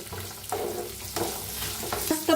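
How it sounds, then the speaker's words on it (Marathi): Fresh peas and cut tomato are roasting in a pan, with a close, continuous sizzle and a few scraping stirs of a spoon. "एक तंबाटू कापून घेतलाय ते बी छान असं भाजून घेऊया"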